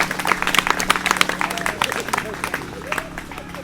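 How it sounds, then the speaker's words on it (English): Audience applause for a choir at an outdoor bandstand in Hexham, a brisk burst of scattered clapping from a modest crowd, fairly close, with some voices mixed in. "Give them a big round of applause."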